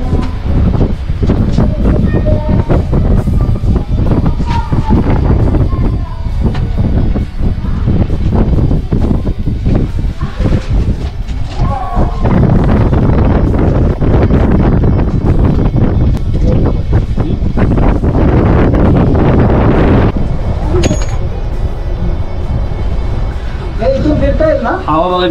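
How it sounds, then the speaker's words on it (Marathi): Strong wind roars and buffets close up at the edge of a cave on Kunjargad hill fort, loud and continuous throughout, with gusts rising and falling and someone speaking under it. "हवा बघा किती डेंजर येते."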